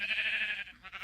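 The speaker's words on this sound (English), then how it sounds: "We've got a small little wool farm as well. A couple of sheep." Sheep bleating in Minecraft on a small wool farm, a single nasal bleat held steadily and then breaking into a shorter wavering tail, close and clear with no talk.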